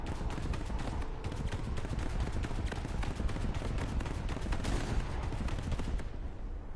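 Dense, continuous rapid-fire gunfire in War Thunder, a steady rattling stream of shots at high intensity throughout, with a brief heavier burst near the end before it drops off.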